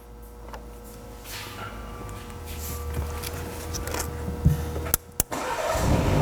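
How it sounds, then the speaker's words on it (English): A 2021 BMW X3 engine starts with a low cranking rumble that swells into a steady idle, with a couple of sharp clicks just before it settles, fairly close and without talk. "we're going to have our technician starting the vehicle for us"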